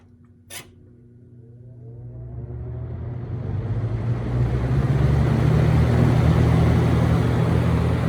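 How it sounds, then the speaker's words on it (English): A 1987 Lasko box fan, model 3713, with a plastic Marco motor starts up after a click, its hum and airy whoosh building steadily over several seconds into a loud, sustained rush with a low motor whine. "That is why I love these plastic Marco motors, because they always have a distinct whine to them."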